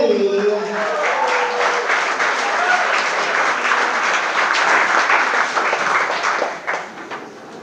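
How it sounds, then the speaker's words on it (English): Guests at an evening wedding reception clap for the best man, a steady, full burst of applause filling the room, with a voice briefly heard at the start before tapering off. "How about a round of applause for Mr. Andrew Baldetti?"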